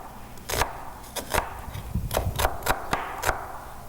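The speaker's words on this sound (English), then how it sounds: "So we're going to give like a rough chop" An onion gets a rough chop with a knife on a cutting board, a series of about ten crisp, uneven thwacks at close range over a faint room hum, with no voices.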